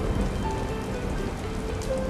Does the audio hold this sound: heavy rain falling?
yes